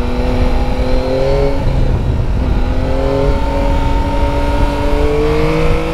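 A Yamaha Tracer 9 GT+ motorcycle engine on a road ride in the Hérault, carrying through a corner; a loud, steady drone with rising and falling engine pitch as the rider shifts and accelerates, with no talking.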